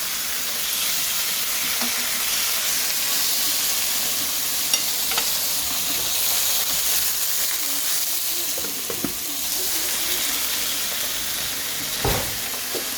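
Steak seasoned with salt and pepper sizzles steadily in a hot pan for a Zambian home-cooked meal, a continuous close frying hiss with occasional spits and faint clinks in the background.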